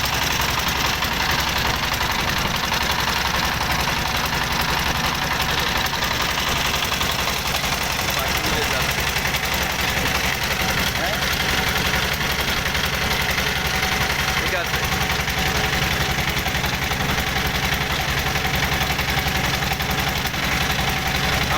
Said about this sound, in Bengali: এই যে নৌকা চলে যাচ্ছে